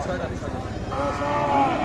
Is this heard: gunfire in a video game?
no